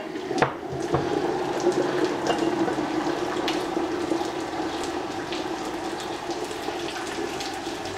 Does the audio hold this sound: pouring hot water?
yes